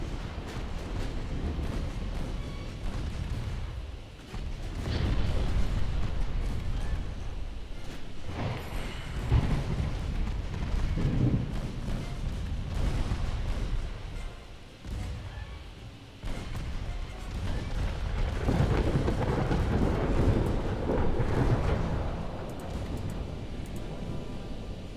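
Naval gunfire in Ultimate Admiral Dreadnoughts, with warships trading heavy salvos: a continuous low rumble of booming gun blasts and explosions that rises and falls in waves throughout, loud and dense with no clear pauses.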